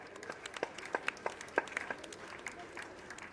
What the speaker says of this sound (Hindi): तो मैं इनके लिए एक बार जोरदार तालियां आपसे रिक्वेस्ट करूंगा कि जरूर बजाएं